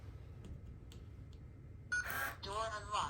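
A keypad lock on a bedroom door gives a few short electronic chirps and tones as it unlocks, close and moderately loud after a stretch of quiet room noise with faint taps.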